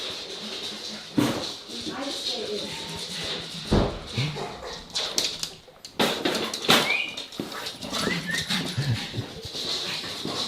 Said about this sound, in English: Here comes a pug.